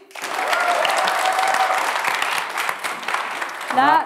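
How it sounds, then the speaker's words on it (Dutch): A school audience at a HAVO exam concert practises a round of applause, with loud, sustained clapping from a large group that builds quickly and holds steady before a brief voice cuts in at the end. "Dus we willen graag dat jullie extra hard klappen."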